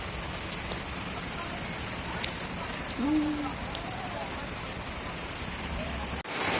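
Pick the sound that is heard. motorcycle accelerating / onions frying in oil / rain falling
rain falling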